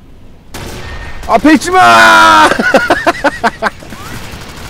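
Rapid gunfire bursts in the top-down shooter Alien Swarm, loud and repeated in quick volleys over about three seconds, with players talking over the shots.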